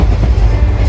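Train running, heard from inside a passenger carriage on a morning journey in India, with a steady loud low rumble and a faint clickety-clack of wheels over the rails, continuous and close, with no talking.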